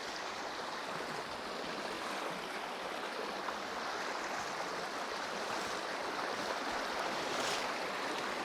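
A creek tributary nearly as large as the main creek flows in a steady, dense rush of running water, continuous and even with no voices.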